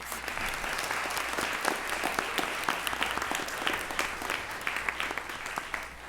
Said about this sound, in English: I think that deserves another huge round of applause